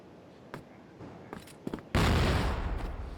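Gunfire in a competitive tactical shooter match: a few scattered distant shots, then a loud sustained burst of rapid fire that keeps rattling to the end.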